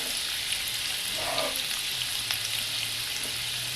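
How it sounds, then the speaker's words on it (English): Carrots cooking down in a pan for stuffing, a steady close sizzle like light rain with a brief spoon scrape partway through and no voices. "So we'll cook down these carrots for about 5 to 7 minutes."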